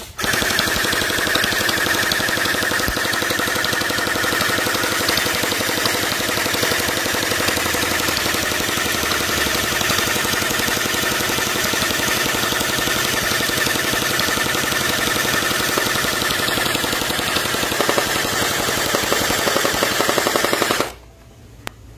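A gun fired continuously until its magazine runs empty, a long sustained stream of rapid mechanical shots lasting about twenty seconds at steady loudness, then cutting off abruptly into near silence.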